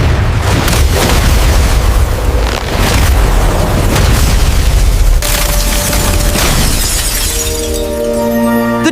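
A generator is blown apart in a Pokémon video game: a loud, sustained blast of booming and shattering debris that rolls on for several seconds, then gives way to a ringing tonal sting.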